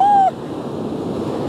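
Big autumn sea waves rush over the seaside promenade in Opatija in steady rain, a broad continuous wash of surf and wind noise with a short whistling tone at the start.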